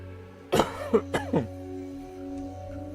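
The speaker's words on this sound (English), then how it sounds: "I can't shake this fucking cough." A few short, close coughs with a throat-clearing rasp, then quiet low background hum.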